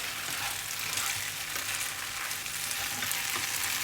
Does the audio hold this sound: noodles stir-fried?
yes